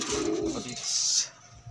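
Blue bar pigeons in a loft coo softly up close, one low throaty coo followed by a brief higher rustle, with no talking.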